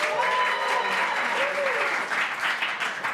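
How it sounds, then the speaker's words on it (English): Improv musical comedy show audience giving another round of applause: thick continuous clapping with scattered cheers and a rising whoop, loud and steady, thinning slightly toward the end. "Another round of applause."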